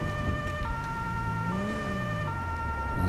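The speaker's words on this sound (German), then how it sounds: "Krankenwagen ist vor Ort." An ambulance siren wails steadily in the video game GTA 5 with the LSPDFR police mod, on snowy streets with fire crews nearby. The rising and falling tones sit over constant engine and street noise, with no talking.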